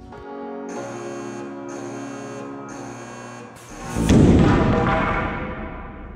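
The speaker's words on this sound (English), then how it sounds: "using this beast of an air cannon right here. We'll be shooting some 2x4s out of that." An air cannon fires a 2x4 piece of lumber at hurricane test panels, one loud booming shot with a broad rush that rises near the end, after several seconds of steady mechanical humming with periodic high buzzing tones.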